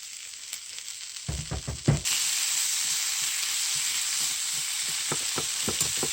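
Tomatoes hit a pan of hot frying spices while cooking a mustard greens dish. A few close clatters are followed by a loud, steady sizzle that runs to the end.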